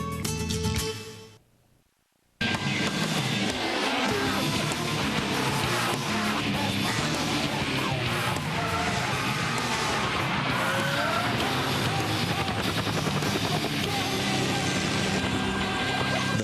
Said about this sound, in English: Fast C230 sports sedan with a supercharged compressor engine